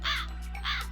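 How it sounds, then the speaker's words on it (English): Two loud, close crow caws in the video game Blue Archive, harsh and evenly spaced over a low steady hum. "I actually like crows. I think they sound cool."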